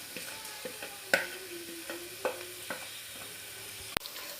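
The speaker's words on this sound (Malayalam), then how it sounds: "അപ്പോൾ നമുക്ക് ഈ മസാലേൻ്റെയൊക്കെ ഒരു പച്ചമണോ അതിൻ്റെ ഇതൊക്കെ പോണ വരെ ഒന്ന് ഇളക്കി കൊടുക്കും." Spices such as chilli powder, cumin and garam masala fry in a pan for tomato bath while a spoon stirs them, giving a soft steady sizzle broken by a few distinct close scrapes and taps.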